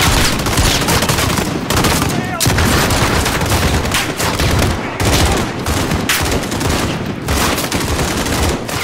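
Dense, continuous gunfire and explosions fill an embassy siege firefight in Call of Duty Modern Warfare 2019, loud and near, with rapid automatic bursts and booms throughout and shouted voices faintly under the din.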